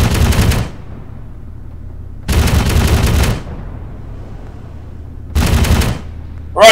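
Bursts of vehicle-mounted gunfire in a military video game, three loud separate volleys with short gaps between them. The last one is cut off at the end.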